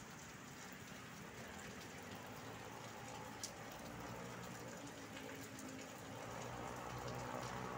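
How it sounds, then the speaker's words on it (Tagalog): Heavy rain pours steadily over a highway in San Fernando, Pampanga, a dense, even hiss with no breaks and no talk. "Umuulan po rito ngayon mga kababayan, malakas po ulan."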